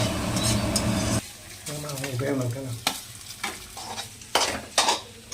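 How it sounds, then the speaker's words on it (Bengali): Fried rice is tossed and stir-fried in a pan, a sizzle punctuated by scraping and clanks of the spatula, loud and close, with a voice speaking intermittently. "আর এটা ফ্রাইড রাইস করে নিচ্ছে"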